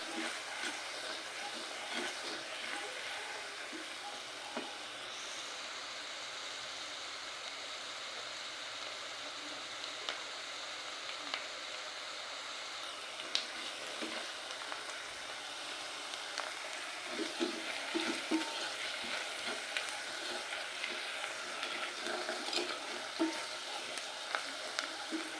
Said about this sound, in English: Add in our curry powder, mix it very well, then stir a bit.